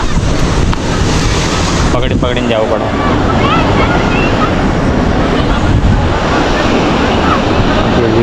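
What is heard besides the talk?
ocean waves breaking on the shore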